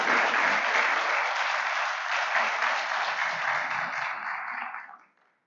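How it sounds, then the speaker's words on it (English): Audience applause at a school board of directors meeting for a first award winner, a steady broad wash of many hands clapping for about five seconds before stopping abruptly. "let's give a big round of applause for our first winner, Easton Urban."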